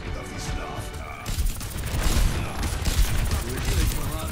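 An explosion in Overwatch 2 erupts after a quieter start, into a loud, rumbling burst that lingers under ongoing game noise while someone talks over it.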